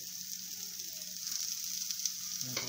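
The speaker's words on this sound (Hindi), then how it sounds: "फ्राई कर लेंगे मिर्च छोटे बारीक कटे हुए" Finely chopped chillies frying in a pan make a brief, even sizzle over a low hum, swelling slightly just before the end.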